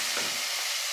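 Chopped tomato hitting hot oil with asafoetida, a brief burst of bright hissing sizzle with a quick stir, close and fairly loud.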